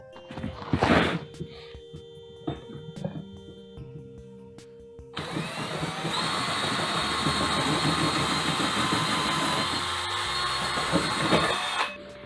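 A power drill bores a pilot hole inside a box in a tiny off-grid house, starting with a few scattered taps and knocks, then a loud, steady whining grind for several seconds that stops abruptly near the end.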